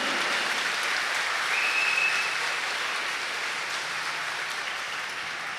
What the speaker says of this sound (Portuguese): Brada para ele uma salva de palmas.